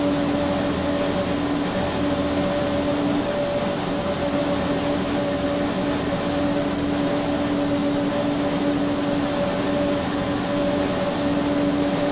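Steady droning turboprop engine of a Flysimware MU-2 aircraft in a flight simulator game, a constant loud hum with a sustained tonal whine, no talk over it.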